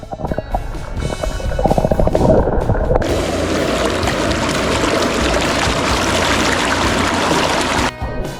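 A valley stream at a campsite cabin in Haedam village: after a brief mix of rumbling sounds, a loud, steady broadband rush of flowing water fills the scene, close and unbroken, with no voices.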